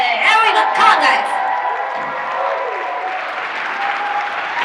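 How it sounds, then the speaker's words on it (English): A crowd claps and cheers loudly, with whoops at the start, then the applause settles into a steady, sustained clatter of many hands. "please help me welcome with a huge round of applause"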